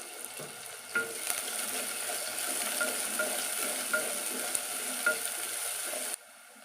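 Small shallots and garlic sauté in oil over full heat, a soft steady sizzle with periodic clinks and scrapes of a spatula stirring, fairly close, cutting off abruptly near the end.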